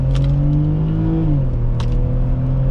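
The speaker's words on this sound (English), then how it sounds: "The inline six sounds great. Pulls well." A 2006 BMW X3 3.0i inline six engine hums steadily from inside the cabin as it accelerates, its tone climbing and then dropping at a gearshift before pulling again, loud and close.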